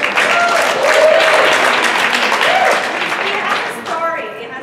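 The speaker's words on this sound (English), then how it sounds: "round of applause for the design" A conference crowd applauds steadily for several seconds, a dense wash of clapping that tapers slightly toward the end, with faint voices mixed in.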